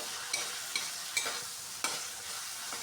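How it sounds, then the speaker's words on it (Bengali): Chopped tomato goes into whole spices frying in oil in a pan. A steady, close sizzle runs throughout, broken by four or five sharp knocks and scrapes of a spoon being stirred. "এবার দিয়ে দিচ্ছি কেটে রাখা টমেটো।"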